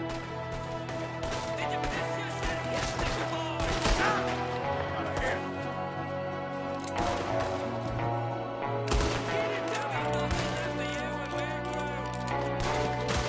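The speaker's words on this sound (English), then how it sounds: "there's another one shooting from the window" Repeated gunfire from enemies in Red Dead Redemption 2, including shots from a window, sounds in busy bursts under a dense layer of game music and noise throughout.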